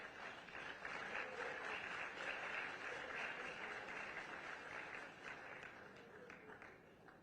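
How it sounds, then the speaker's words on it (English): At a Monrovia Day gathering in Liberia, an audience claps steadily for the mayor of Accra, a soft, distant wash of applause that fades slightly toward the end. "Another round of applause, please."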